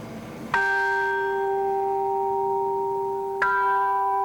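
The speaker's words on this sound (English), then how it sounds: "I give you the normal traditional bell, the bell you will hear always in the churches" A traditional church bell is struck twice, about three seconds apart, each strike a sharp clang that settles into a steady, sustained ringing hum, loud and close with no speech.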